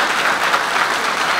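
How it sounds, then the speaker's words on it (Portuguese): An audience at a public meeting breaks into applause, a dense, steady roar of many clapping hands heard alone at an even, fairly loud level throughout. "aplausos"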